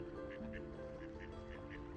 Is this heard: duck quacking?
yes